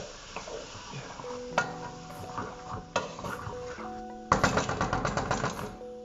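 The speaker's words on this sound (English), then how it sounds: "Let me just stir them up." A spoon stirring ingredients in a pot for an Ethiopian-style chicken stew: scattered scrapes and clinks against the pot, with a brisker run of rhythmic scraping near the end and quiet background between.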